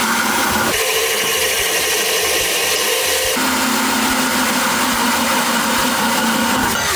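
An electric drill runs continuously under load, boring into a Honda CB500 motorbike cowl, with a loud, steady whine that shifts pitch partway through; no clear snap of the bit stands out.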